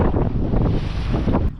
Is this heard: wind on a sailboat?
yes